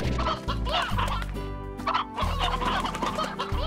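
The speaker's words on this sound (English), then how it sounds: "let's put some hens in" Hens in the video game Slime Rancher cluck repeatedly in overlapping, rhythmic bursts, loud and close, with no talk over them.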